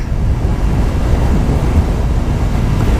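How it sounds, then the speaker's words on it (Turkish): Steady, loud wind buffeting the microphone while riding a motorcycle, a continuous low roar with no other sounds. "Rüzgar sesini belki ben konuşmadığım zaman duyuyorsunuzdur."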